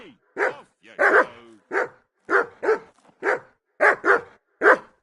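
A dog in Kingdom Come: Deliverance 2 barking repeatedly, about ten sharp, close barks in an uneven rhythm with short pauses between, loud and clear with no talk over it.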